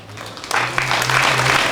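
An audience at a Hindi poetry gathering breaks into applause, starting quietly and swelling into a steady, full round of clapping that continues to the end.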